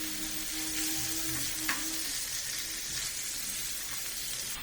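Chicken pieces fry in a pan with ginger-garlic paste over high flame, giving a steady, close broadband sizzle with a brief clink partway through and no talking.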